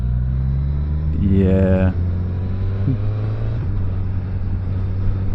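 A Suzuki GSX-S1000 motorcycle in A (sport) mode rumbles steadily up close as it rides away, a low droning engine tone with a brief rise in pitch, while a rider talks over it.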